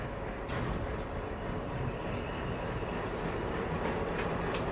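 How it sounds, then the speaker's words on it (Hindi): Rail travel near an ALCO WDM 3D diesel locomotive on a journey toward Pune: a continuous loud rumble with wheel clatter and occasional high squeals. "एल्को लोकोमोटिव के दर्शन भी हो गए।"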